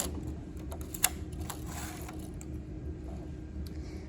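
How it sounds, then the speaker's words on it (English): Needles on a knitting machine pushed forward one after another, producing a string of small, light clicks and rattles over a steady low hum, close by and without talk. "the first thing I'm going to do is push all my needles forward"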